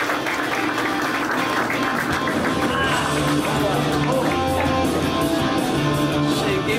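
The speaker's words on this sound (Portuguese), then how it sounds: "Muitos aplausos pro meu amigo Jefinho Faria" Crowd applause for comedian Jeffinho Farias at a 2019 stand-up comedy show, steady dense clapping filling the whole stretch with a loud, close room feel, with voices and stage sounds mixed in underneath.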